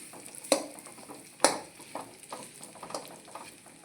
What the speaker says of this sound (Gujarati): હવે આ જ્યાં સુધી સોફ્ટ ન થાય ત્યાં સુધી આપણે આને ઘીમાં શેકવાનો છે